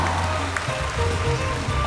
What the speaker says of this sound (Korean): 최고의 영상을 만들어주신 여러분들께 일단 큰 박수 보내주시고요